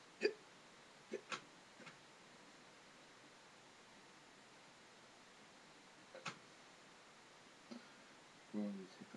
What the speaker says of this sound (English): these hiccups